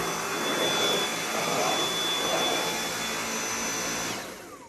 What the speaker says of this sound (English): And now I'm ready to vacuum.